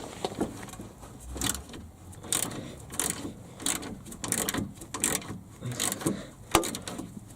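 A ratchet works loose the brush guard bolts on a Chevy Blazer, giving close, repeated bursts of sharp clicking in an uneven back-and-forth rhythm, with no voices.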